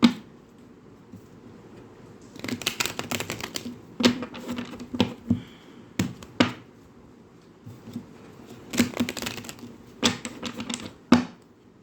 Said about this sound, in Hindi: let me give this deck a good shuffle first